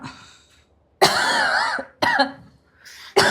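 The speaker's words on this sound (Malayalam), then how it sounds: "ഒന്ന് ചുമയ്ക്കുന്നു" Three loud, hoarse coughing bursts close to the listener, separated by short pauses.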